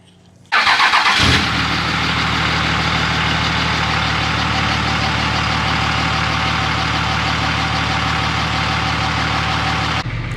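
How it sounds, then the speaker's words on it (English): A 3G regular cab truck engine cranks briefly and catches, then settles into a steady, loud, close idle that runs unbroken to the end, with no talking. "you guys saw Andy's truck start right there"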